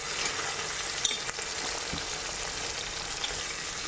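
Three onions sizzle and crackle steadily in hot oil in a pan, frying until light brown for a goat curry, a continuous close hiss with faint stirring.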